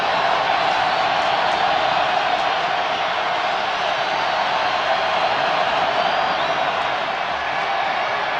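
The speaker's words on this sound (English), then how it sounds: "That draws the crowd enthusiasm up a notch." Steady, dense roar of a stadium crowd at an NFL football game between the Indianapolis Colts and Kansas City Chiefs in 2003, a continuous wash of cheering voices with no pauses or distinct peaks.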